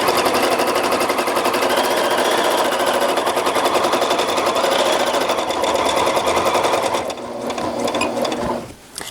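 A sewing machine bastes a fabric panel lap quilt in a fast, even run of stitches, close and steady for several seconds before slowing and stopping.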